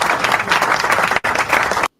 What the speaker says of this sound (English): Got to give you some applause